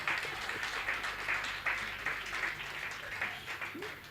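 An audience at a Hindi comic poetry recital claps in a thin, scattered ripple of applause at moderate distance, uneven and fading, with a voice talking over part of it.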